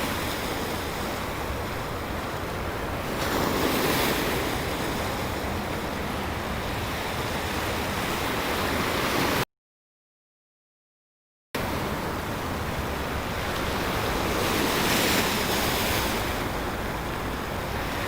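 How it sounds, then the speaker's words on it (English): Steady broadband water wash from the East River in Manhattan at sunrise, with soft wind and distant boat traffic, continuous and moderately loud, interrupted once by a brief dropout. "the water sounds are very nice"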